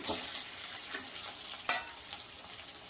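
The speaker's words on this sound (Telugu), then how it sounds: "ఇప్పుడు వంకాయలు మనకు వేగిపోయినాయి కదండి" Eggplant and lentils fry in a hot pan, giving a steady, close sizzle with a brief louder crackle as the pieces are stirred.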